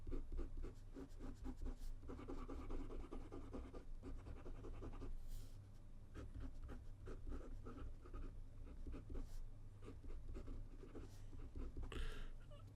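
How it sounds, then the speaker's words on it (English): Lamy 2000 fountain pen with an OB nib writing on paper, a dry, scratchy nib dragging across the page in quick repeated strokes, close and steady with brief pauses. "I find that the nib is a bit scratchy and too dry for me."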